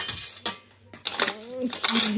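Porcelain dishware from a set clinks and clatters as pieces are handled up close, with scattered sharp knocks between quieter pauses and a voice speaking briefly near the end.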